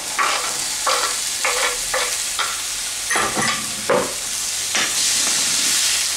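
Chopped tomato hits a hot frying pan and is stirred, with loud, steady sizzling and repeated scraping strokes of a spoon at a regular rhythm, close up with no talking.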